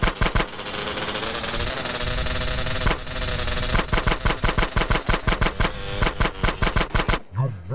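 Rapid bursts of automatic gunfire from Grand Theft Auto: San Andreas, loud and close, a sustained rattling stream that breaks into evenly spaced separate shots before cutting off near the end.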